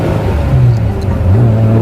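A 1930s BMW roadster racing car engine revs loud and close, a steady throaty drone that climbs and settles in pitch as it pulls around a track.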